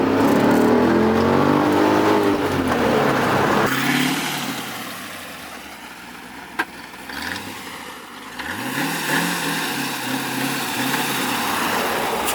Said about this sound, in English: The car does rumble.